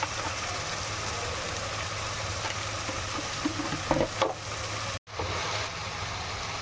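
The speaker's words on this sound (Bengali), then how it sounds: "কাঁচা গন্ধ ছাড়া পর্যন্ত মশলা আমরা একটু কষে নেবো ভালো করে" Salt, turmeric, cumin and mustard spices frying and sizzling in a pan, a steady close hiss that runs throughout with a few stirring scrapes and a brief dropout near the end.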